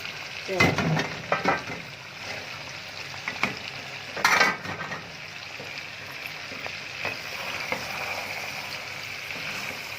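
Onion and tomato masala for restaurant-style murgh cholay frying in a pan: a close, steady sizzle with bursts of stirring and scraping, a few louder spattering surges.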